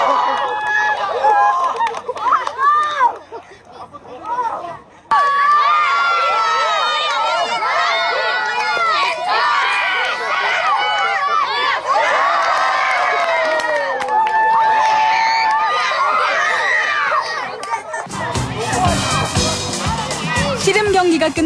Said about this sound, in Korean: 아이들의 환호 소리가 해변을 가득 메웠습니다